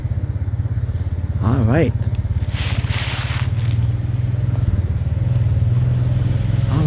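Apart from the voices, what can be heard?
four-wheeler quad bike engine approaching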